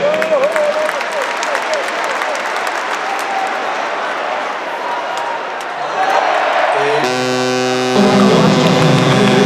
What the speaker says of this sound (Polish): Wielkie brawa poprosimy.